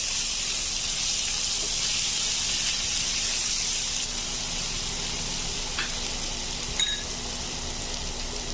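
Butter garlic fish frying in a pan, a steady close hiss and sizzle running throughout with a couple of small clinks near the end, no voices.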